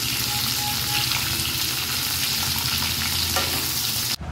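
Panch phoron spices and a chilli crackling in hot mustard oil for a Bengali mango chutney, a loud continuous close sizzle with faint stirring, cut off abruptly at the end.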